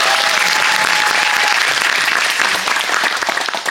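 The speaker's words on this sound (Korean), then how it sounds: "박수 한번." Theatre audience applause at the LG Arts Center during curtain-call thanks, loud, dense clapping close by that gradually thins into scattered claps at the end.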